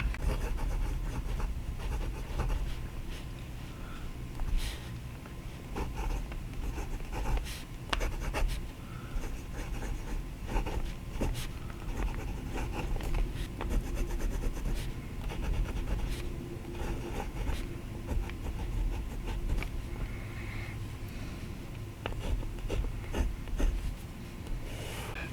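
A steel-nib fountain pen scratching steadily across Fabriano paper, close and quiet, with continuous soft rasping strokes and small ticks of pen lifts over about twenty-five seconds, with no talk.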